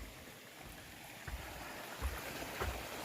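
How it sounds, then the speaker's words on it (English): A small mountain stream on the Appalachian Trail approach near Springer Mountain trickles and burbles quietly and continuously, faint and close, with a few soft splashes and no talking. "A nice little stream."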